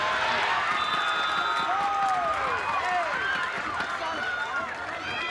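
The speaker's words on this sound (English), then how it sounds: "Crowd starting to get back into it a little bit." A stadium crowd at a women's college soccer semifinal murmurs and cheers with scattered whistles and shouts, with a commentator speaking over the broad steady noise.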